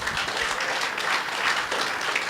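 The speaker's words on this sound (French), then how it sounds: "Put your hands together for the Lord" A church congregation claps together in praise during a bilingual worship service, a loud, dense, sustained wash of applause with no voices rising above it.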